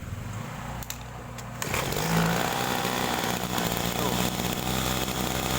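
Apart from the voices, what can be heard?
sprayer engine with carburetor running after restart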